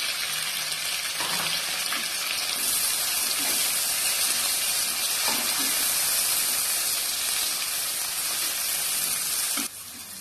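Large chopped onions sautéing in a pan for Tamil-style turkey biryani, with a steady, loud sizzle throughout, a few soft stirring knocks, and the sizzle dropping slightly at the end.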